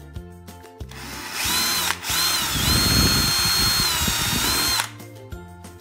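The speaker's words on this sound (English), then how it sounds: "Mushrooms will come out on the top of the wood, so I need to drill some holes." A power drill bores holes into a block of wood, whining loud and steady for about three seconds after a couple of brief starts, with handling knocks before and after.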